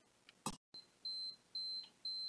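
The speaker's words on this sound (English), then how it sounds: "It's an automatic timer." An automatic timer gives three evenly spaced electronic beeps, each a steady high tone lasting about a third of a second, loud and clear after a brief click.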